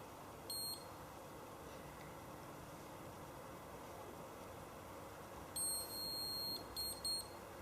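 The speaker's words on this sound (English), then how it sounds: "That final beep just indicates that my 2 minutes are now up" A galvanic facial device's timer gives a few short electronic beeps: a single chirp early on, then a cluster of quick high beeps near the end marking two minutes up, over a quiet background hiss.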